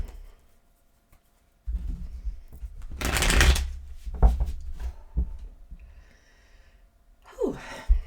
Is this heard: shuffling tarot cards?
yes